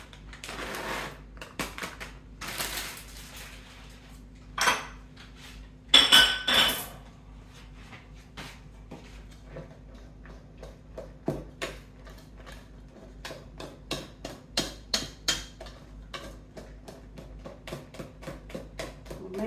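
Banana cake batter with raisins stirred in a bowl, a spoon or utensil knocking and scraping against the sides in irregular clicks and taps, fairly close, with a low steady hum behind it.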